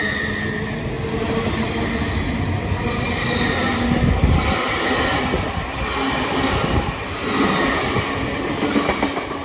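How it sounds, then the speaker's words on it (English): A Great Western Railway class 800 passenger train departing Didcot Parkway for London Paddington rumbles steadily past at close range, a continuous heavy roll with rising and falling swells of wheel and carriage noise, and no voices. "Going out now is the 1557 Great Western Railway service to London Paddington from Bristol Temple Meads"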